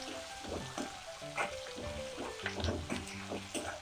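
Green peas, peanuts and green chili sautéing in a pan for rava upma, a soft, quiet sizzle with intermittent light scrapes and clicks of stirring.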